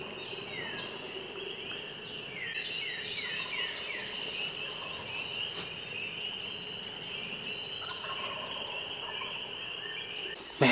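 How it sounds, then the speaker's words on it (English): Wild turkeys gobble faintly from a distant ridge at dawn on opening day of turkey season on public land in Kentucky, a few rolling calls over a steady backdrop of songbirds and insects. "I'm just gonna stand here and hopefully a bird starts gobbling."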